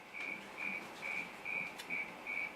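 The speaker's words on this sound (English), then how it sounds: "There's tons of crickets out there." Crickets chirp in regular short bursts, about six pulses evenly spaced, steady and moderately close against a quiet background.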